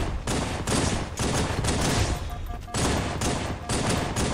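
Rapid gunfire from Halo 3, loud and close, in dense overlapping bursts of shots that continue almost without a break.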